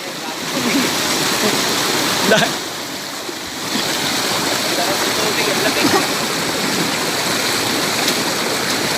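Clear river water rushes and splashes steadily, loud and close, a continuous broadband wash with a brief surge partway through; voices are faintly mixed underneath.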